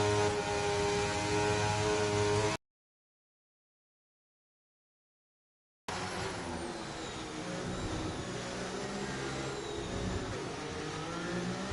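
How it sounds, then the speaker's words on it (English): An Aston Martin race car engine in a racing video game, a loud, steady, droning whine with harmonic tones. It cuts to silence for about three seconds, then returns as a rising, revving roar that holds to the end. "Let's listen to the Aston Martin engine as we close."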